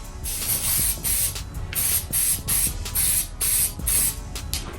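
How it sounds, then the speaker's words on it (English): Repeated short hissing bursts of spray are applied to Air Jordan Bred 4 sneakers, about ten quick close-up sprays in an uneven rhythm with small handling noises between. "I'm gonna go and spray something on here."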